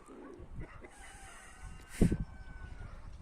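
A rooster crows briefly amid soft clucking from nearby chickens, with faint background noise and no talking.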